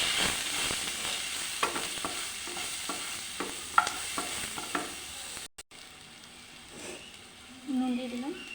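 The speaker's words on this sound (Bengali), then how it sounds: "এবার একটু ভেজে নেবো পটলটা।" Pointed gourd frying with green chillies, onion and turmeric gives a quiet sizzle with light scraping stirs at an irregular pace, then a brief cut and faint kitchen noise with some low speech.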